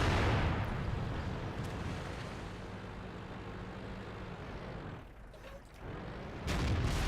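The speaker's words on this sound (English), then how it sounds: "Not sure where that shot went" A tank cannon shot in the World of Tanks video game: a loud, close, booming blast at the start decaying into a long rumbling tail, with engine drone and another heavy boom near the end.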